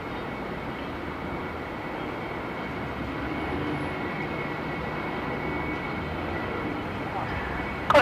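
A Rex Saab turboprop inbound from Mildura to Melbourne Airport, heard as a steady, fairly loud broadband engine roar that holds for the full stretch with no gaps, ending in a sharp thump.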